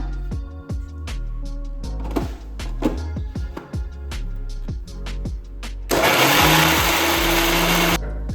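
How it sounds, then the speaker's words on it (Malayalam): A mixer grinder blending tender coconut flesh with coconut water, a loud, steady whirring roar of about two seconds near the end, after a rhythmic music beat. "നമ്മൾ കാമ്പുള്ള കരിക്ക് മിക്സിയിൽ അടിച്ചെടുത്തു."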